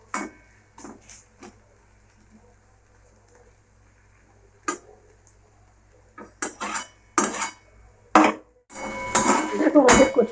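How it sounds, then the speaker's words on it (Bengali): Taro leaves (kochu shak) being stirred and spread in a metal pan, with irregular clanks and scrapes of the utensil against the pan, some louder bursts near the end, and no talk. "মধ্যে নাড়া দিয়ে দিতে হবে, নাহলে তলাটা ধরে যাবে"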